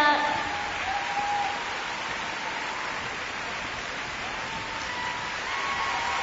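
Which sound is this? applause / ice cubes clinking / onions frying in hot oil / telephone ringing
applause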